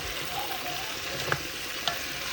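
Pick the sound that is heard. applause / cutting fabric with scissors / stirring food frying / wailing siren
stirring food frying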